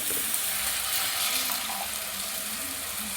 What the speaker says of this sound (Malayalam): തിളച്ച വെള്ളം ഒഴിച്ചു കൊടുക്കുക